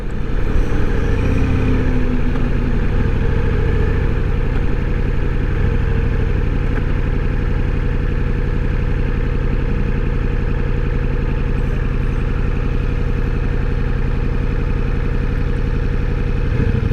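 A Ducati Multistrada V4 Rally motorcycle idles roughly on two cylinders while running rich, a loud, close, continuous low engine rumble with no talk over it.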